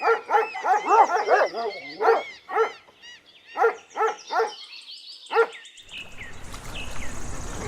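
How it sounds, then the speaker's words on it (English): A dog barks in quick bursts, loud and close: a rapid volley of sharp barks, then spaced single barks, ending in a soft whine as a broadband rushing noise takes over at the end. "Dog."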